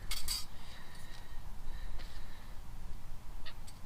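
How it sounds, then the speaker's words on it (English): Small metal clinks and taps come from a tiny camping stove being set up outdoors on marshland, with a few brief, close rattles over a low ambient background. "So we're gonna set up my teeny weeny stove"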